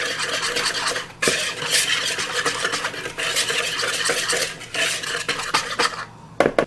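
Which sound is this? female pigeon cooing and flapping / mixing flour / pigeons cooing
mixing flour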